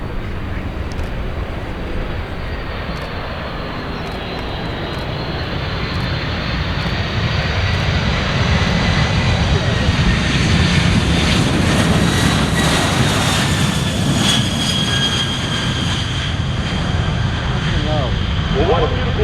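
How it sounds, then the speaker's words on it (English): A Boeing KC-46 tanker aircraft maneuvering toward landing at the EAA AirVenture Oshkosh 2025 airshow, its loud, steady engine roar sustained throughout and slowly swelling as it passes, with an announcer's voice faintly under it. "Now the mighty KC46 is now maneuvering for its landing attitude demonstration"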